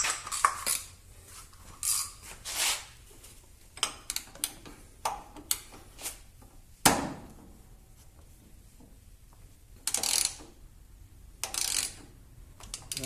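A metal wrench clinks and taps intermittently while the oil filter is removed from a John Deere D110 riding mower, giving sparse, close, sharp metallic ticks and knocks with quiet gaps between them.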